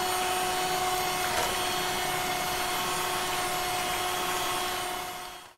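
Electric mixer beating cream with kulfa essence for matka kulfi, a constant loud motor whir with a steady pitch that runs alone and then winds down at the end.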